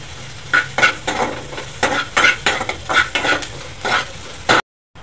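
Chopped onions sizzle in a hot pan for a Malvani kulith pithi recipe while a spoon stirs and scrapes them in quick, uneven strokes, close and clear, ending in abrupt silence.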